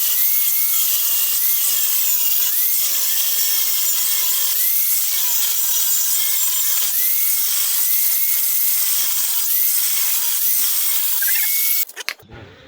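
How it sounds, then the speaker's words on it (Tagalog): A sander fitted with a thin cutting disc grinding through the main stand pin of a Honda Wave 110, a loud steady high-pitched screech that runs continuously before stopping abruptly near the end. "So gumamit lang po tayo ng sander, tapos yung sander gumamit lang po tayo ng pangcutting na manipis mga boss."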